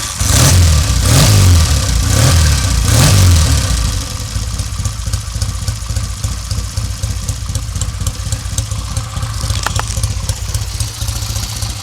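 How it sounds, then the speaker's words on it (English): A Triumph Bonneville T140 motorcycle engine running on both cylinders again, after a fault on the left cylinder, gives three loud throttle blips, then settles into a rapid, close, lumpy idle. "it started and ran on two cylinders, as I hope to demonstrate right now"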